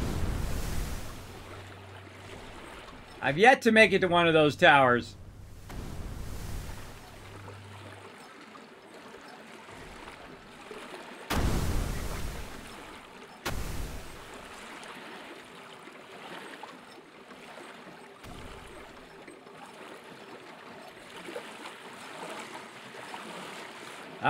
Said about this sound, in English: you can see that the water is getting pushed, right? And then you're creating a wake behind you.